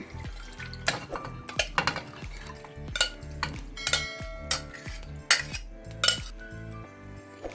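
Pre-cooked mutton goes into a pan for a Kerala-style mutton curry and is stirred. A spoon clinks and scrapes against the metal pan in a series of sharp, close knocks, with no talking.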